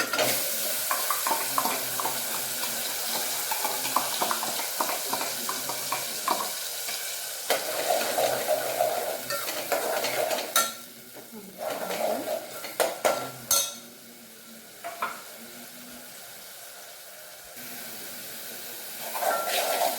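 Ground almond paste sautéing and being stirred in a pan for a badam tomato rice, with steady sizzling, scraping and utensil clatter; the frying noise dips and returns in bursts as the mixture is moved.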